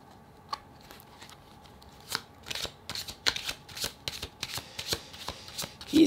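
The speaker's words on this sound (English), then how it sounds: "Let's pull 3 cards from the universe." A tarot deck being shuffled close up before a three-card pull, a run of soft riffling flicks and papery slaps that build in density toward the end, with no talk.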